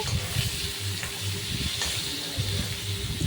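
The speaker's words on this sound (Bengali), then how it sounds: "ইলিশ মাছ ভাজা করছি বন্ধুরা" Hilsa fish frying in oil, a close, steady sizzle with bubbling hiss and faint spatters, no one speaking.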